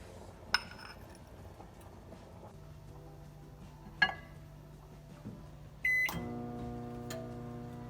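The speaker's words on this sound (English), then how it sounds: "put those into a bowl and microwave them" A microwave heating a bowl of pasta hums steadily at a low, quiet level, with a few sharp clinks and beeps, then the hum shifts to a slightly louder tone near the end.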